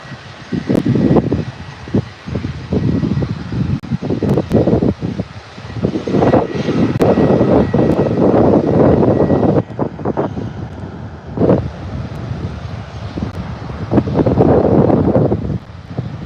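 A fixed-wing aircraft lands at Birmingham airport, its engine roar loud and sustained throughout, heavily buffeted by gusty wind noise on the microphone, with no talk.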